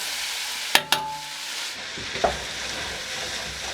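Dry and green onions dropped into a pan with sautéed lamb offal for magiritsa, a couple of sharp knocks from the pan or utensil followed by a steady hissing sizzle as they fry.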